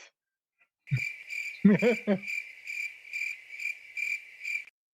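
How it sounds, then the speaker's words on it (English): A cricket sound effect chirps in a regular pulsing trill, loud and close, preceded by a few brief vocal noises. "Play the crickets."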